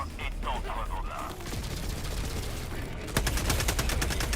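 Gunfire in the Helldivers II video game crackles as rapid bursts and sustained automatic fire, with a sharper, louder volley near the end, mixed with game sounds and someone talking over it.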